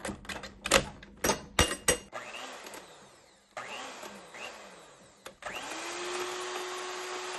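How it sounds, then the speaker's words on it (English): An electric mixer beats a vegan, gluten-free cookie mixture with cream of tartar until frothy. Clattering knocks come first, then uneven motor bursts that settle into a steady, moderately quiet whir near the end, with no talking. "we have our mixer again. I'm going to beat this until it's frothy."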